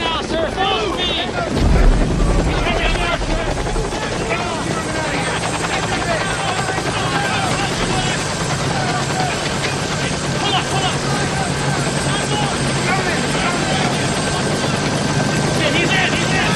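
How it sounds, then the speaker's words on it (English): A helicopter idles and rotors steadily near a landing area during an evacuation scene, a constant droning whine with rhythmic blade thump and wind noise, loud and close throughout, with a brief louder burst near the start. "We're gonna run to the chopper."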